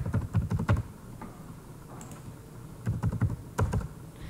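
Zip codes are typed on a computer keyboard in short, quick bursts of clicking keys, separated by pauses. Close and distinct, with no talking.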